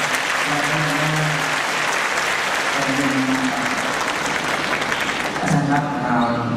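A concert audience applauds a university chorus with sustained, full applause that stays loud and even throughout, while a faint tonal hum sits underneath.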